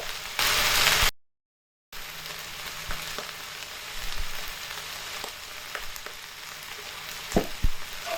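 Moringa leaves sizzle in a frying pan while stirred: a loud hiss at the start, then a short gap of silence, followed by a quieter steady sizzle with scattered scraping clicks of a spatula against the pan.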